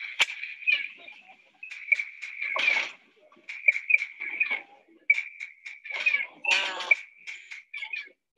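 Hand claps at a Mayan pyramid, each sharp clap followed by a chirping, descending echo off the stepped stone that resembles a quetzal's call, repeated in a steady series with quiet gaps.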